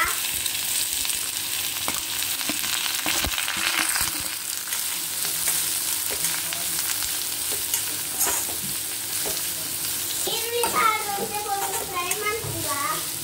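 Onion fries in a pan of oil and ghee with curry leaves for a homemade chicken burger, a continuous close sizzle with stirring scrapes, and a voice speaks near the end.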